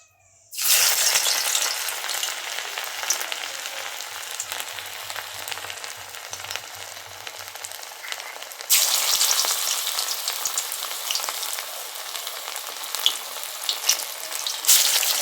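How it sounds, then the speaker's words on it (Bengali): Mushroom pakoras dropped into hot oil set off a loud, dense, continuous frying crackle that swells again partway through, close up and with no voices. "এখানে তেলও গরম হয়ে গেছে। এবার আমরা তেলে সেই বড়াগুলো ছেড়ে দেব।"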